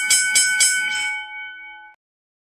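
A small bell struck a few times in quick succession at the end of a live psychic reading, bright metallic rings that merge into one clear, sustained tone and fade out within about two seconds, close and loud, with no talking.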